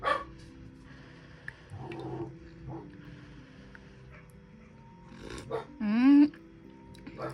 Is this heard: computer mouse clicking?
no